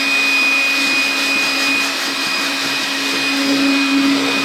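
Shop vacuum sucking up sawdust and sap-laden wood debris while building a reloading bench, a loud steady motor whine with a constant high tone running alone throughout.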